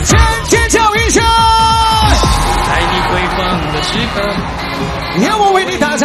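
A crowd at a live DJ show yells and cheers over loud, pounding dance music, with an amplified voice calling out above the steady din.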